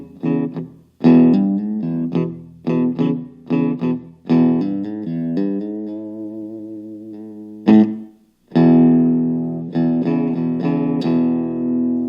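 A Harley Benton ST-JAMster electric guitar played with a clean tone and reverb, picking chords and single notes in short rhythmic phrases, with one sustained wavering chord ringing out mid-way, close and clear with no talk.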